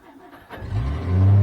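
A farm machine's engine cranks and catches, a quiet whir that swells into a rising, loud low rumble as it fires and revs up.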